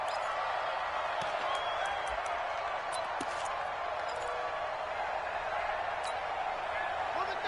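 The stadium crowd in a PS4 American football video game featuring the Jaguars produces a steady, distant roar with scattered claps and thumps, sitting under faint announcer commentary.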